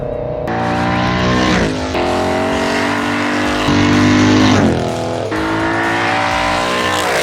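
A 2012 Ford Mustang Boss 302 under way, its engine droning loud and close with harmonic tones that climb through several gear-like pulls and drop between shifts, with no talk over it.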